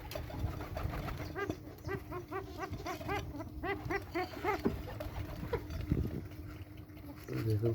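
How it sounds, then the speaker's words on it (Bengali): Pigeons in a loft coo in repeated soft, throaty bursts close by, several birds overlapping, over a steady low background hum, with a brief knock near the end. "এখন সব কবুতর চলে আসবে।"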